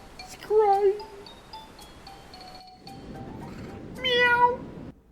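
Cat crying and meowing in Final Fantasy XIV, a few distinct meows with a longer plaintive cry near the start and another near the end, with quieter noise between.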